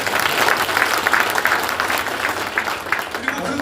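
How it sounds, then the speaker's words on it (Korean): Audience applauding at an indoor political launch event in a Jeju chamber of commerce hall, steady dense clapping from a crowd throughout, close and fairly loud. "박수 한번 주십시오."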